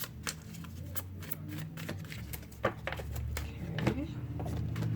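Tarot cards are shuffled close by in a quick riffling, flicking rhythm of repeated soft snaps, with low background hum and occasional handling noises.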